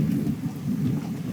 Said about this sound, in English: Yes, that is indeed thunder.